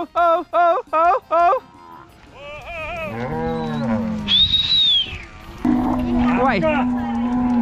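Cattle being moved to pasture on a farm, with rhythmic calls at the start followed by several loud, drawn-out moos nearby, while a voice calls and talks among them.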